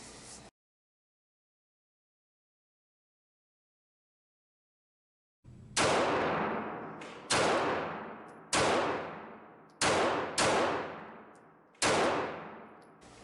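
An East German Makarov PM 9x18 pistol fired at a target 35 feet away: after a brief opening blast and five seconds of silence, six loud, evenly spaced shots ring out, each with a long decaying echo.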